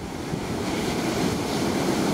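Heavy surf at a beach in Bournemouth, UK, rolling in as a continuous loud roar of breaking waves with wind buffeting the microphone, and no voices.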